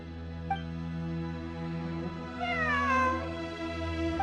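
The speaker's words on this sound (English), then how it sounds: "A cat? I think there was one earlier, too." In Genshin Impact, a cat gives a couple of clear, drawn-out meows, one short and one longer and rising, over a steady low hum with no talk.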